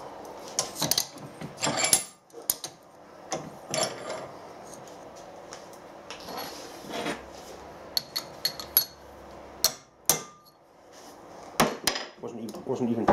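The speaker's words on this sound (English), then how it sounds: "we should be able to drive the adapter off" Sharp metallic hammer blows drive an R8 adapter off a Chinese drill chuck, irregular clinking strikes spaced through a quiet workshop.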